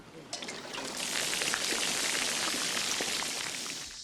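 Water from a canteen poured out onto the ground in a wartime army setting, a steady splattering trickle that starts abruptly and runs for a few seconds before tapering off, fairly close.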